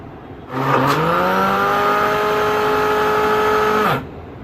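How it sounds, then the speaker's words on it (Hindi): A mixer grinder whirs loudly for about three and a half seconds, blending a chikoo milkshake with sugar and cream, its motor pitch rising quickly then holding steady before stopping abruptly, with no talk. "अब हम इसे ग्राइंड करते हैं।"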